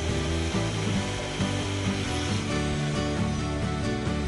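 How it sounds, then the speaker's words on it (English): A Festool TS75 plunge saw cuts through wood, a loud, steady buzzing rasp of blade on board that holds for the whole stretch with no talk. "All this Festool technology culminates with another perfect plunge cut"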